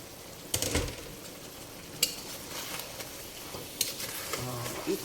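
Chicken cooking in a pan gives a steady low sizzle broken by a few sharp utensil scrapes and knocks, a clatter near the start, one at two seconds and another near four seconds, close by with no talking.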